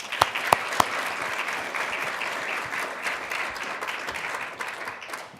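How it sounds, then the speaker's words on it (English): Warm audience applause welcoming a panel at a morning breakfast event, a few sharp close claps at the start giving way to a dense, sustained wash of clapping from the crowd. "please join me with a warm welcome of applause of our esteemed panel"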